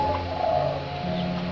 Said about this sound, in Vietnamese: Nó gù gù mắc cười